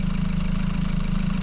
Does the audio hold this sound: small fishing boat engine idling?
yes